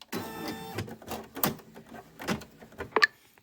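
A machine embroidering a satin stitch on an in-the-hoop Christmas banner whirs in short rhythmic bursts, close and fairly loud, with mechanical clicks and a sharp clack near the end.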